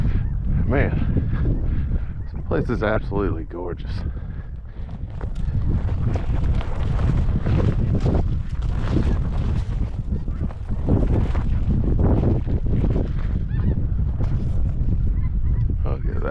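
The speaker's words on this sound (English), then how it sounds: "And as always, giant flocks of snow geese buzzing over." Large flocks of snow geese pass overhead above a brushy upland field in Kansas, their honking calls rising and falling in the distance beneath someone speaking and rustling nearby.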